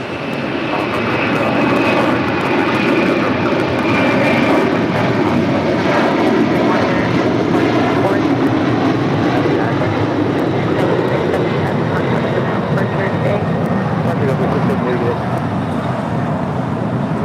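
Boeing 787-9 Dreamliner jet taking off from LAX runway 25 right, a loud sustained engine roar that holds steady and close, with people talking over it.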